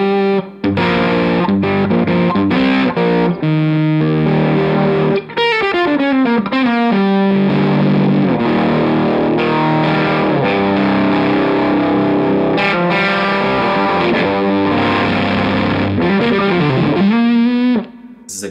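An electric guitar on its bridge pickup plays a lead through a Stumpbox fuzz pedal, loud and saturated, with sustained distorted notes, bends and fast runs.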